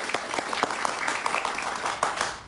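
A studio audience on a Spanish-language television talk show breaks into steady applause welcoming a guest, many hands clapping at a moderate distance, a continuous, even patter with no speech over it.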